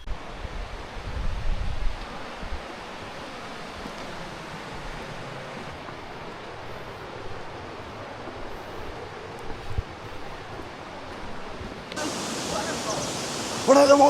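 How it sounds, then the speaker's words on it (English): A waterfall on a levada hiking trail in Madeira, heard as a continuous broadband rushing roar that holds steady and swells louder near the end. "We're at the waterfall! We're at the waterfall!"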